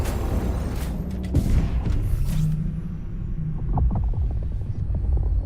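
Hellpod orbital thrusters in Helldivers 2 engage with a deep rumbling roar and hissing bursts, loud and close, settling into lower booming mechanical rumble and thuds.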